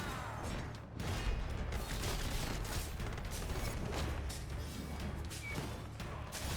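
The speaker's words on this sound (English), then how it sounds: "The explosions always hit me." Dense, continuous rumbling blasts and crashing noise fill the whole stretch, a loud chaotic barrage of explosions in the game Lost in Random: The Eternal Die, with no pauses.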